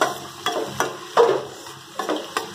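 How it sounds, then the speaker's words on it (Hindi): Onions frying lightly in a pan for egg curry while being stirred, with a soft sizzle broken by several sharp scraping strokes spaced through the stretch, close and fairly quiet, with no talk. "इसे हल्का फ्राई कर लेते हैं, प्याज गोल्डन ब्राउन कलर तक हो जाए।"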